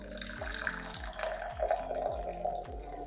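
Pu-erh tea poured into a cup, heard as a faint, steady liquid stream with gurgling under a quiet background of rhythmic low thumps.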